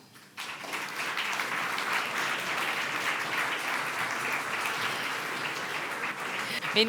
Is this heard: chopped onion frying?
no